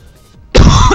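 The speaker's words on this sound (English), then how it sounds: "I can't stop coughing." A single harsh cough bursts out close to the microphone after a brief quiet moment, loud and throaty, lasting about half a second.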